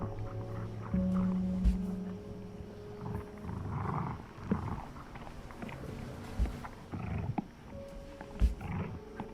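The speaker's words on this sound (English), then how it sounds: "That might be dogs tearing up the cat." Dogs maul a cat in the video game Before Your Eyes: rough growls and snarling roars come in bursts, broken by sharp thuds and scuffles, moderately loud and with no voices.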